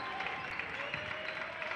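Crowd noise in a gym during a college men's basketball game, a steady diffuse roar of cheering and clapping, with a commentator's voice heard over it.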